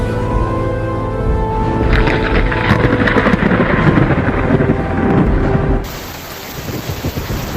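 Heavy rain in a hailstorm roars loudly, with deep rumbling thunder rolling underneath; the sound shifts abruptly near the end to a thinner, hissing downpour.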